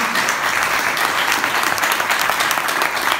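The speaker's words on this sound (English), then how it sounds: "A big applause" Dense, steady applause from an on-stage talk audience, a continuous wash of many hands clapping at full volume throughout, with no voices breaking through.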